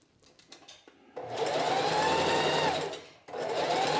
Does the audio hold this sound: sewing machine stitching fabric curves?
yes